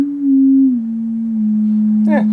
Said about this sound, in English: So go ahead and put a sine wave in here.